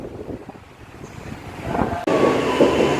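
A KRL commuter train at a Jakarta station, a loud rumbling rush of rail noise and wind that jumps sharply louder halfway through as the carriages pass close by.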